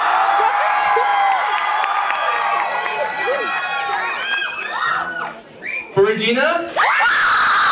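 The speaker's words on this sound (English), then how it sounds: "You have to cheer your loudest because we're trimming." Fan meeting crowd at a dance competition screaming and cheering loudly, many high excited voices overlapping in dense waves close by, with a voice speaking briefly amid the noise.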